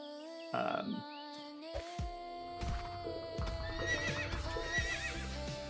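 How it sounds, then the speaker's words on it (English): A horse in the video game The Quinfall gallops at full speed with rhythmic clip-clop hoofbeats after a loud neigh, set against a steady hum and game ambience, with no talking. "So we just got a blue horse at full speed"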